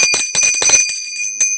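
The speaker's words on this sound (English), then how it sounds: "This bell is to let you know this is important." Bright bell chimes ring out in a quick series of strikes, loud and close, with sustained high ringing tones, then a final single ding after a short pause.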